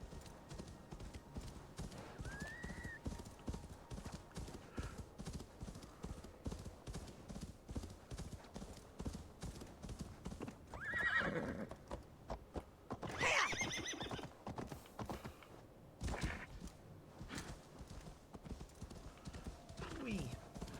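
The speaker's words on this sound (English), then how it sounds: "Oh look, a horse. We'll use it to get to the mystery." In the game Assassin's Creed Valhalla, a horse's hooves clop in a steady rhythm, with a couple of loud whinnies partway through, all under a speaking voice.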